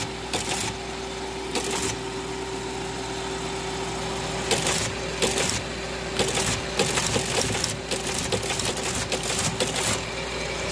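A Teletype Model 28 teleprinter clatters as keys are typed, its mechanical printing coming in dense bursts over a steady motor hum, close and fairly loud with no talking.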